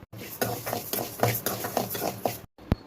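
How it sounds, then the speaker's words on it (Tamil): Rice being stirred while it dry-roasts in a pan, a steady run of scraping and rustling strokes close by, with a brief gap and a sharp tap near the end. "இப்போ அரிசி வறுத்துக்கலாம்."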